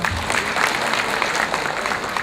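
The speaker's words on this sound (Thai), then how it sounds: "ยืนขึ้นเลยครับปรบมือท่านด้ยครับ" Audience applause at a gathering in Phetchabun, Thailand, after people aged seventy are asked to stand; a steady, dense wash of clapping fills the short stretch without pause, with no clear talk over it.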